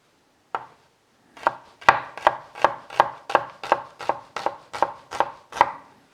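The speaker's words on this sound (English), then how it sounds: "Should just kind of roughly slice up the onion and the garlic." A knife chops roughly through onion and garlic on a board, starting with a single cut and then settling into about a dozen steady, evenly spaced strokes, close and crisp, with no voices.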